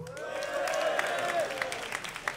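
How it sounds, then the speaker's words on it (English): An audience at a DreamHack SteelSeries StarCraft tournament erupts in cheers and applause for a player, a sustained crowd roar with clapping that swells and then eases slightly. "make some noise for Top"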